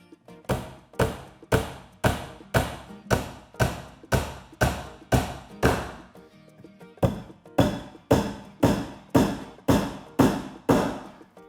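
A hammer drives nails into a wooden bookshelf in a woodworking class, with sharp, loud, evenly spaced blows roughly twice a second, a brief pause midway, then another steady run of strikes, close and alone.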